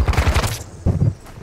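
Video game gunfire in a hostage mission, a quick burst of several close, punchy shots followed by another short volley.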